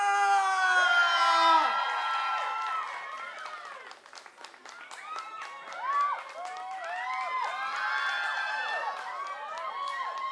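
A crowd at a drag queen show screams, whoops and claps to welcome the performer. High-pitched shrieks and cheers rise and fall throughout, with a scattered burst of clapping in the middle.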